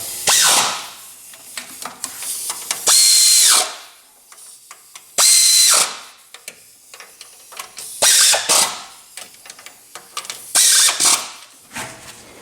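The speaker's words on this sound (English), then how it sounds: "we got those cinched down with the air ratchet" An air ratchet tightening cylinder head stud nuts on a Magnum V8 engine buzzes loudly in repeated short bursts, with clanking and metallic tool handling in the pauses between runs.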